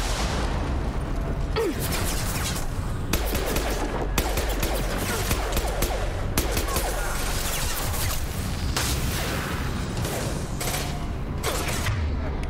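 Dense, continuous gunfire from a Mass Effect 2 firefight, loud bursts and rapid shots layered over one another with no pauses, close and heavy throughout.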